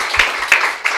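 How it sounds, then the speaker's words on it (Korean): Audience applause in a church during a Friday worship service, a dense burst of clapping with a few louder accents over a short second. "우리 같이 한번 박수를 한번 치죠."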